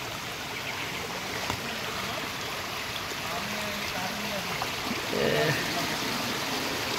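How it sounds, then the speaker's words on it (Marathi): Canal water rushes and gurgles steadily during heavy monsoon rain in Khed, Konkan. A person talks over the continuous flow, which swells slightly louder near the end. "आता पूर्ण सगळं पाऊस पण आहे आणि त्यात म्हणजे कॅनलचं पाणी पण बघा केवढं आलं बघा"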